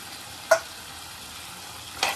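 Chicken fry sizzles quietly in a pan while a spoon stirs it, making two brief scraping strokes about a second and a half apart over a low background hiss.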